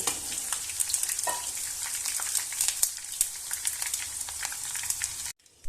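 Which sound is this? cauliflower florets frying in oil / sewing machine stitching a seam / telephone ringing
cauliflower florets frying in oil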